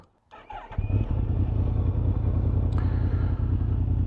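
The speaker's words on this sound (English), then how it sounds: "start the engine, and let's head off" A motorcycle engine cranks over and catches, then settles into a steady, loud, close rumbling idle, with a brief high beep partway through.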